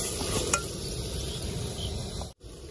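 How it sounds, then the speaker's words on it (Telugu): Ginger paste sizzling and being stirred in a hot pan with mustard seeds while cooking tomato rice, a steady soft frying hiss with light spoon scrapes and a short break near the end. "దీన్ని పచ్చివాసన పోయేంతవరకు మనం తిప్పుతూనే ఉండాలి అల్లం పేస్ట్ని"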